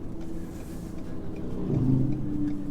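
A 2017 Ford F550 Powerstroke diesel truck towing a heavy load speeds up to merge onto a highway, giving a steady low engine drone that slowly grows louder as it accelerates, heard from inside the cab.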